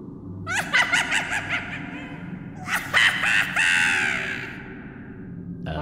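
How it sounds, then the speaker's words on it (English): An old hag shrieks and cackles up above in an old mill, in rapid, harsh, crow-like bursts: a run of choppy cackles, then a longer shrieking wail, close and fairly loud. "up above you hear shrieks and cackles that cause the old mill to shudder"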